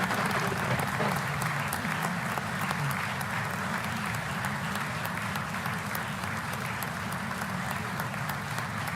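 Sustained, dense applause fills the South Carolina House chamber as the governor enters for the State of the State address, loud and steady throughout with crowd noise beneath.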